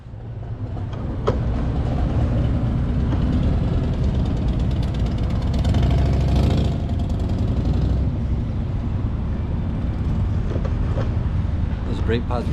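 Harley-Davidson Fat Boy on a road test ride after a rear brake job, a loud continuous low engine rumble with road and wind roar, steady throughout, with a brief sharp knock near the start.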